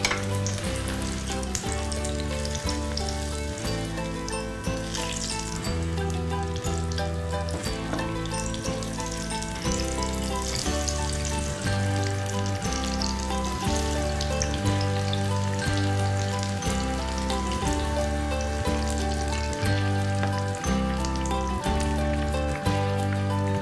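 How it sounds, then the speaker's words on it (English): Paneer pakoras coated in batter deep-fry in hot oil with a continuous crackling sizzle, steady and close, while background music plays throughout. "and we put it to fry."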